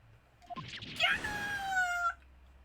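A cartoonish cat meows from The Great Ace Attorney Chronicles video game: a single drawn-out, rising-then-falling meow lasting about a second, clear and close against a quiet background.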